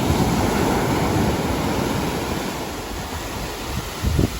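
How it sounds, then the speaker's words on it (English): Large ocean surf breaks on a beach, a continuous loud wash of rushing water and spray with a fresh surge near the end, heard alone without talk. "Monster wave. Huge. Awesome."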